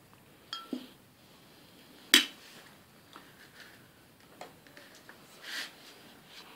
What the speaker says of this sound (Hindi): ये मैंने सरना मक्की और काली मिर्चें जो हैं इसको मैं मिक्स कर रहा हूँ चमचे के साथ